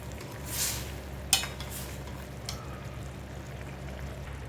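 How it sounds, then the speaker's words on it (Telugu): A spoon scrapes and clinks against a pot while curry with added cumin powder and salt is stirred, over a faint steady simmer, with one sharp metallic tap partway through. "కొద్దిగా జీరా పౌడర్, కొద్దిగా సాల్ట్ ఒకసారి కలుపుకుందాం."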